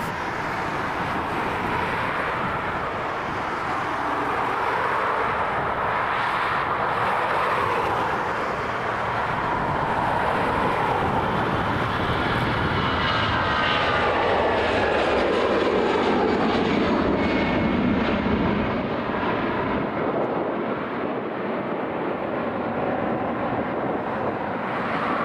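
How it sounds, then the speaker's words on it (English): An Airbus A320 in 2019 livery takes off from Dublin Airport bound for Zurich, its engines a loud, steady roar that rises and sweeps in pitch as it passes close, heard alone throughout. "EI348 here, this Airbus A320 with that 2019 livery, beginning its journey over to Zurich."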